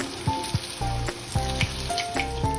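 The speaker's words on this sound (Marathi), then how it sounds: "आता हे छान फ्राय झालेले आहे, शॅलो फ्राय करून घेतलेले आहे" Poha cutlets shallow frying in a pan, with close, constant oil sizzling and repeated light scraping of a utensil against the pan.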